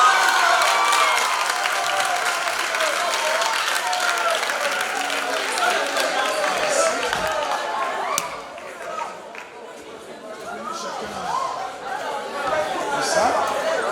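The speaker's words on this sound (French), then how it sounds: "Applaudissez encore pour mes amis." An audience at a theatre competition final applauds and chatters in a large room, the crowd noise steady before dipping briefly and picking up again.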